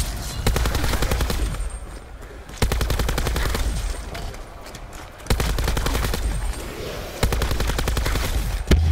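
Gunfire in the video game Black Ops 4 comes in rapid automatic bursts of dense crackling shots, four long volleys separated by short gaps, loud and continuous.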